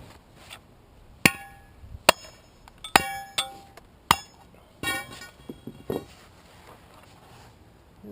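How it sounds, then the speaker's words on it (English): A pry bar taps a concrete core out of a drilled hole in a curb, a series of sharp, ringing metallic strikes spaced irregularly, clear and close against a quiet outdoor background. "You just have to tap it a couple times and it'll break off."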